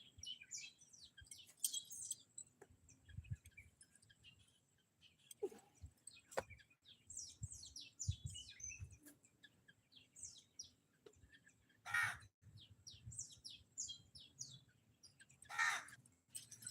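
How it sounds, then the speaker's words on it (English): A bird calls outdoors in repeated short chirps and caws, scattered across the stretch at moderate distance, with faint background noise between the calls. "you hear the bird say ha, say ha, say ha"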